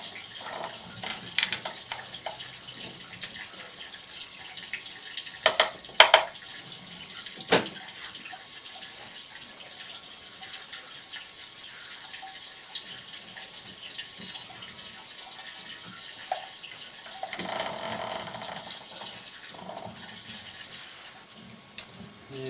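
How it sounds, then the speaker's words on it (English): Water runs steadily down a kitchen sink drain, a continuous faint wash heard from inside the pipe, broken by a few sharp knocks and gurgles. "we're running some water in the kitchen sink now"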